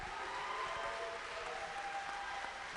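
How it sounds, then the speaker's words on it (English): Faint, steady audience applause for graduates at a 2024 middle college graduation ceremony, an even wash of clapping that holds without a break. "Can I get one more last round of applause for them?"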